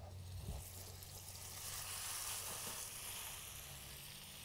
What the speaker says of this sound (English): There's that sound, that sizzling sound we like.